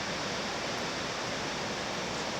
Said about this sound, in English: Feeling the waves coming in here. You can probably hear them roaring.